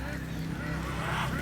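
Geese honk on a farm within a steady, dense din of poultry calls, close and continuous with no clear break, while people talk over it.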